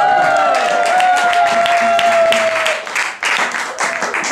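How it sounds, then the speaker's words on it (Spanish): Crowd applause at a live beatbox show, loud clapping mixed with whoops and a sustained tonal cheer or whistle, thinning briefly near the end before picking up again. "¡Aplausos!"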